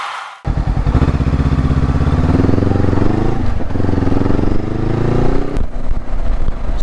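Motorcycle riding on the road, its engine droning steadily and close after a short quiet start, pitch rising and falling slightly with throttle changes, heard from the rider's helmet without speech.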